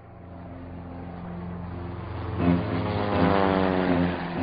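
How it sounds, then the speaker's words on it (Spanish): Propeller-driven Argentine Navy warplanes drone steadily overhead, a continuous engine roar that swells louder midway as the aircraft pass, with no speech. "una escuadra de 30 aviones de la Marina de Guerra y la Aeronáutica bombardea la Casa Rosada"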